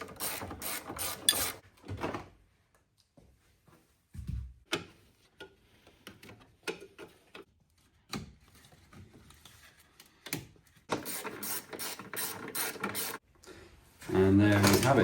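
Bolts and clips being removed from the battery tray of a Fiat Panda 169 during a gear cable replacement, with intermittent ratchet clicks, mechanical rattles and pauses, plus bursts of nearby noise at the start and end.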